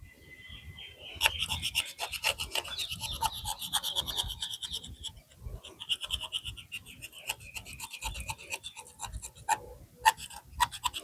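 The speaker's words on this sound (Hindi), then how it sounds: "आप इसके चारों तरफ 1 इंच का कट बनाएंगे, लाइक दिस" A blade cuts and scrapes a ring of bark around a branch for air layering, producing close, steady rasping and scratching strokes with short pauses, with no talking.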